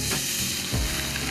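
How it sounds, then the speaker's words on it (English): Steak sears in hot oil in a pan, a loud continuous close-up sizzle with a dense hiss that holds steady throughout, with no voices. "We want this to sear to get a nice crust."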